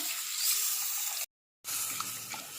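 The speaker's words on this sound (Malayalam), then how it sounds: "ഇനി നമുക്ക് കുറച്ച് വെള്ളം ഒഴിച്ച് കൊടുക്കാം." Water hits a hot pan of fish curry base and sizzles loudly in a steady hiss, cutting out briefly before the bubbling hiss resumes.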